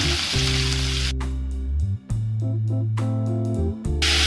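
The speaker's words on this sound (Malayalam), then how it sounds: "ഇനി ഇതിലേക്ക് നമുക്ക് സവാള ഒന്ന് ഇട്ട് കൊടുക്കാം" Sliced onion dropped into hot oil with ginger and curry leaves for a Kerala jackfruit-seed curry, giving a loud, steady broadband sizzle with brief dips and a low tonal hum running underneath.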